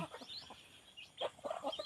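Fighting roosters at a Thai farmyard cluck in short, scattered bursts, fairly faint and mid-distance, with a few sharper calls near the end over a light background hiss.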